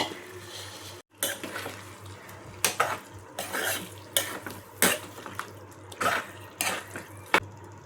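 Chicken is tipped into softened cooked tomatoes in a pan for an Andhra chicken curry and stirred, with repeated scraping and clattering strokes of a utensil against the pan over a low sizzle.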